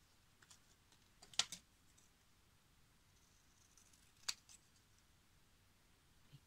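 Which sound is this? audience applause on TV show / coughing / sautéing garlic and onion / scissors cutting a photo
scissors cutting a photo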